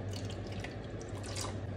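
Half a cup of ordinary, not hot, water is poured into a saucepan holding egg whites, giving a steady close trickle and splash that runs unbroken throughout.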